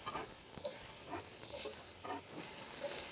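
Red and yellow peppers and a whole onion hit a hot Overmont Dutch oven, giving a faint, steady hiss with soft scattered crackles throughout.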